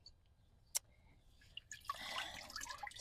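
Potted plants being soaked in a water tank give off faint drips, a single sharp splash, then soft bubbling and trickling water, quiet and close.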